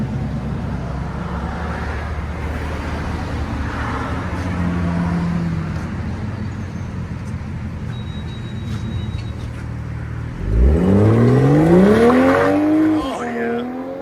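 Toyota Supra GR with a 3.0L inline-six and aftermarket exhaust pulling hard, a loud rising engine howl climbing through the revs late on, after a stretch of distant road noise.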